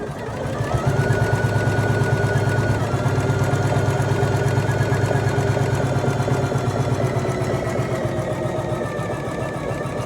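A Poolin embroidery machine stitching letters, a steady loud mechanical whir with rapid needle chatter running continuously and close by.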